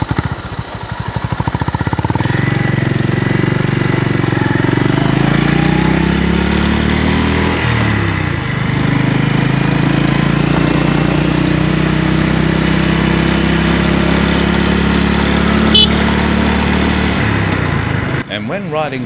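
Japanese-made Honda GB350 motorcycle running, its engine rumbling loudly and steadily, rising and falling in pitch as it revs, with a voice speaking over the engine noise.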